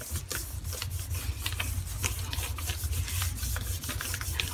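Rubbing the back of a wet painted print on a sheet, making a close, continuous scratchy friction sound with repeated short strokes over a low background rumble.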